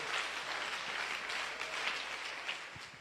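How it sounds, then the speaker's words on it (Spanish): Dense, continuous applause from a church congregation fills the room at moderate volume, a steady wash of many hands with no voices over it. "Dele fuerte ese aplauso al Señor"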